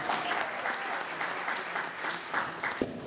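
An audience at a Pakistani American community celebration of America's 250th anniversary claps in steady, moderately loud applause that lasts about three seconds.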